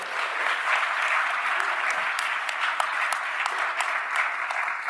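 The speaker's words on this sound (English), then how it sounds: "Let's give them another round of applause." A dense, steady round of audience clapping for a science panel on disease ecology, evenly sustained at moderate loudness with a few sharper individual claps standing out.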